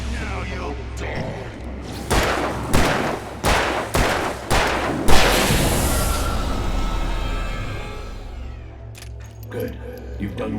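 Gunfire in Alan Wake Remastered: a rapid series of loud, sharp shots in quick succession, followed by a sustained rumbling tail that fades out.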